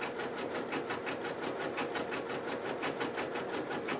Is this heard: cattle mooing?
no